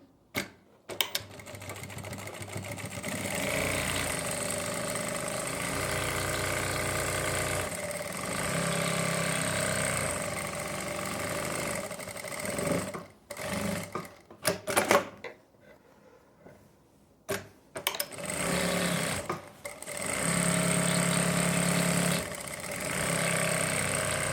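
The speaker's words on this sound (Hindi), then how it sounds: "अब हम एक सिलाई और लगाएंगे इसके ऊपर से ही पक्का करने के लिए" A sewing machine runs in long steady bursts as it stitches a palazzo pant seam, a close mechanical whirring with brief pauses and handling clicks between runs.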